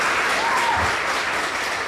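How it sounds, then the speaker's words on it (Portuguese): A church congregation gives a round of applause to first-time visitors, a steady dense wash of clapping that holds at full strength for the whole stretch with no talk over it. "Uma salva de palmas."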